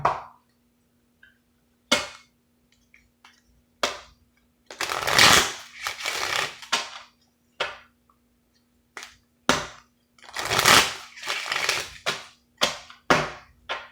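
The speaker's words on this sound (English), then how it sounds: "let me shuffle these real quick" Bursts of tarot card shuffling, several riffles and crisp snaps spaced out over a quiet background, close and fairly loud, with no talking.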